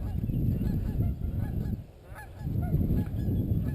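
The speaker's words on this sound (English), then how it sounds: "Got a lot of goose noise." A flock of geese honk loudly and repeatedly nearby during an outdoor retriever dog training drill, a dense overlapping clamor that dips briefly midway before surging again.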